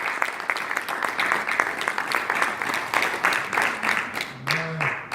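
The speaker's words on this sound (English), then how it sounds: "Get the Lord a hand clap for me." Church congregation giving a hand clap during a Sunday sermon, a sustained wash of many hands clapping at moderate loudness, with a brief voice near the end.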